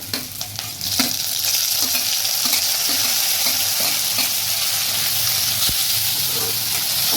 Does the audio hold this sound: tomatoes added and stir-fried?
yes